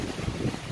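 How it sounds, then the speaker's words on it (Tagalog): Strong wind buffeting the microphone outdoors at Ocean Park in Hong Kong during stormy, rainy weather, a loud low rumbling roar throughout the short moment. "malakas yung hangin at saka maulan"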